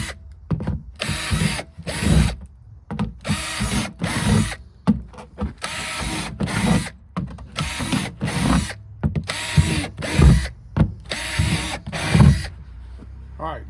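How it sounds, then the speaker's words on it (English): A power drill bores drainage holes into the bottom of a garden planter in repeated short whirring bursts, each stopping and starting again, fairly close and loud. "Just drill you some holes in the bottom so you can have some proper drainage"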